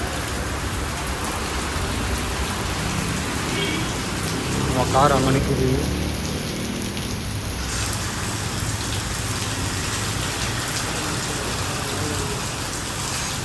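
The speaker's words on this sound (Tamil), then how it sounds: "செம்ம மழை பெஞ்சுக்குது" Heavy rain pours steadily in Vellore as a dense, constant hiss of drops hammering outdoor surfaces near a parked car. Someone speaks briefly over the downpour.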